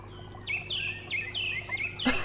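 Birds calling outdoors in the morning, a rapid series of short, descending chirping notes repeated in quick succession at moderate distance, ending with a sudden louder knock.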